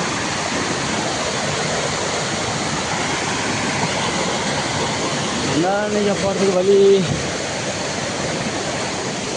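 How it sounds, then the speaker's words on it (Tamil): Loud, steady rush of the Mayil Parai waterfall in Tirupattur district pours forcefully and continuously, with a brief voice speaking partway through over the roar. "தண்ணி போர்ஸாக வருதுன்ட்டு."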